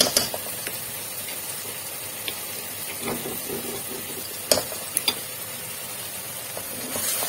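Steady sizzling hiss of crushed garlic and onions frying in a pan, with scattered small pops and crackles, no voices.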